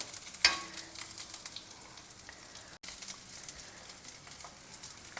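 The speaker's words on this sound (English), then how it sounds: "As we don't want to use too much oil, we will just shallow fry it." Veg cutlets shallow fry in a little oil in a pan, a soft, fairly faint crackling sizzle with a brief louder pop near the start.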